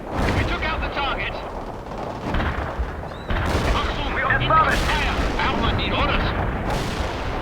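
Heavy artillery and gunfire from a World in Conflict battle thunder almost without pause, with big booming blasts near 3.3, 4.7 and 6.8 seconds over continuous dense rumble and crackle.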